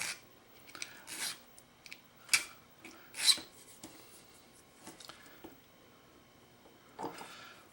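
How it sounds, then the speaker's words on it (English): A key clamped in a vise is worked with a hand file, producing a few faint, scattered rasping strokes and scrapes separated by quiet pauses. "we just take a file and put your key in a vise if you need to"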